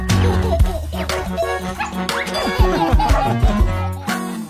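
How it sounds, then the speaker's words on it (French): A big cartoon dog barks and yips in a children's animated song, several bouncy barks and whimpers over bright music with a rhythmic backing, loud and close. "Gros chien!"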